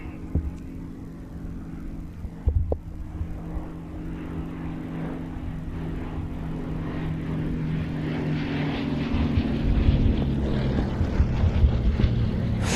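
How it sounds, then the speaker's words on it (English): A Westland Lysander Mark III flies past at an airshow, its Bristol Mercury radial engine giving a deep, throbbing drone that swells steadily louder as the aircraft approaches. "Fabulous sound of its Bristol Mercury radial."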